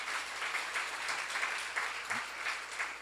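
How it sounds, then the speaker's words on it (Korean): Church congregation applauding during a sermon at a seminar, a steady wash of many hands clapping together at moderate volume, sustained without break. "박수를 하세요."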